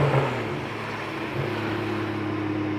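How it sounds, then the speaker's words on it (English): A BMW 335i with its N55 engine and VRSF race exhaust holds a steady, loud droning note with a low hum throughout, shifting slightly partway through as if on the move. "as you could hear, the car's loud, but the drone is not too bad"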